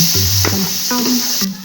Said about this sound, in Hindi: अब इसमें हम अदरक, लहसुन, हरी मिर्च का पेस्ट डालेंगे।